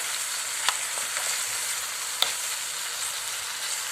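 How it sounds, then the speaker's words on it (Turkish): Börek filling cooking in butter with salt in a pan, a steady close sizzle with a few sharp utensil taps as it is stirred, no voices. "yaklaşık şöyle bir 4-5 dakika bir karıştırarak pişiriyoruz"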